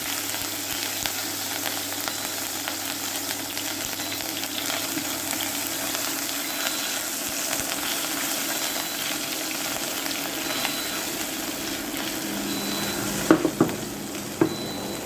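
Garlic and ginger paste fries in a curry pan for a pepper vindaloo, giving a steady, close sizzle with occasional stirring clinks toward the end.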